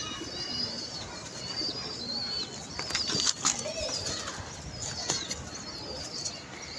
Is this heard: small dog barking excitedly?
no